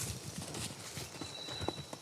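A trained horse moves in an outdoor training area with soft, irregular hoofbeats, and a few sharper thuds later on, heard fairly close with background ambience.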